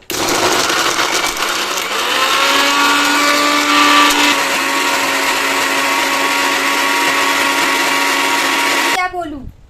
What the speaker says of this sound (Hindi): चलिए पहले तो मैं स्टार्ट कर दूंगी पीसना।